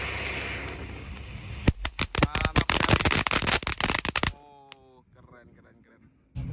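A size-4 cone fountain firework burns during New Year's Eve 2023 celebrations, its rushing hiss giving way to a rapid burst of sharp crackles and pops, then quieting to faint sputters.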